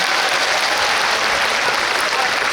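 A large audience at a film festival open talk event bursts into sustained, dense applause, loud and continuous throughout.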